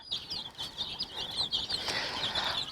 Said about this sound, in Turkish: Bunlar şu anda 5 günlük falan civcivler. Ligorin civcivi tamamı